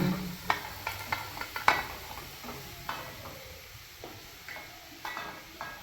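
Mashed potato being stirred into a sizzling masala for masala bonda, with soft irregular scraping and stirring knocks over a faint frying hiss, close by and fairly quiet.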